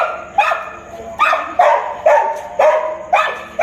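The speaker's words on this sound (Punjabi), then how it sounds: "ਕਿੰਨਾ ਭੌਂਕ ਰਹੀ ਹੈ ਕਹਿੰਦੀ ਮੈਨੂੰ ਵੀ ਨਾਲ ਲੈ ਕੇ ਜਾਓ" A dog barks repeatedly and loudly, close by, in a steady rhythm of about six sharp barks spaced roughly half a second apart.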